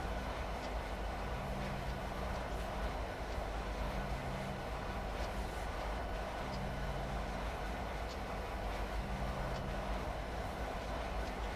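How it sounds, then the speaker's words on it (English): A Union Pacific SD70M freight train on Donner Pass in Train Simulator slows down, giving a constant, even rumble of rolling wheels and engine noise that runs through with no talk. "I'm just letting the train slow down now. I'm not going to take the brakes off because I'll never get them back on again in time."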